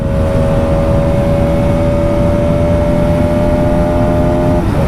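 Bajaj Pulsar RS200 motorcycle engine at high revs, a loud, continuous, buzzing whine that holds steady near the limiter with faint wind roar, heard close and without a break.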